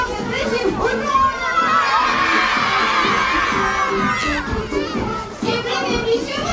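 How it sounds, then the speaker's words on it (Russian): A crowd of children shouts loudly in unison, a sustained joyful cheer of hurray that swells and holds for several seconds before breaking into scattered voices. "И все громко-громко кричим «Ура!»"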